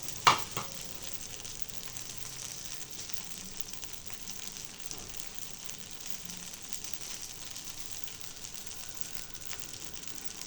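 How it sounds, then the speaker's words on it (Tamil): Onions hitting a hot pan and frying: a brief clatter at the start, then a constant, even sizzle close by with faint stirring scrapes underneath. "வெங்காயத்தையும் போட்டுக்கிறேன் போட்டு மூடிக்கலாம்"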